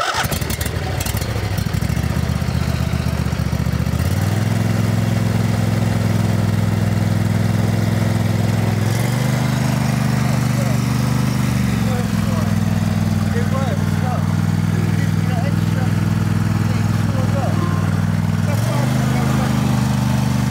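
A repaired lawn mower engine starts after a few tries and settles into a steady, loud near running drone with shifts in pitch, while people talk over it.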